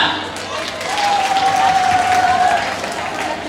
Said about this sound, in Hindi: इनके लिए बहुत बहुत तालियां